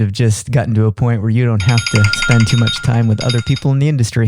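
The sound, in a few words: telephone ringing during podcast recording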